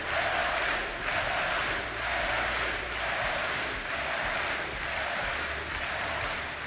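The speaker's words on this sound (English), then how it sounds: "And the crowd absolutely loves it" A large esports arena crowd at DreamHack Masters Malmö cheers and applauds loudly and continuously, a dense roar of clapping and shouting with rhythmic surges as fans celebrate NIP during a Counter-Strike quarter-final.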